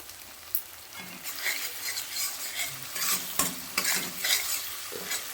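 Spiced vegetarian gravy of lentil dumplings being sautéed in a pan, with irregular scraping stirs over a bubbling sizzle, coming in uneven bursts at close range.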